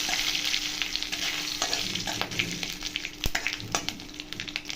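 Whole spices and curry leaves frying in hot oil make a dense, steady crackling sizzle, close and continuous, with scattered sharper pops and a few stirring clicks, and no speech.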